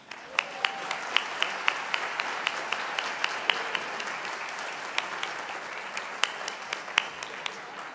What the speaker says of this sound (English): we've been clapping for you for a while